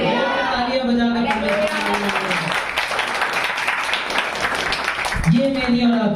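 Congregation at a Hindi-language church service clapping together in steady, dense applause, with a voice speaking over the start and end.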